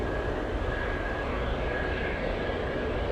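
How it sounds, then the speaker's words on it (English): A fixed-wing plane touches down and rolls out on a runway at Anchorage airport in windy weather, its engine roar a steady broadband rumble with a faint whine, heard from a distance. "they touch down later on the runway so that they can save some time taxiing, and they just land down the runway"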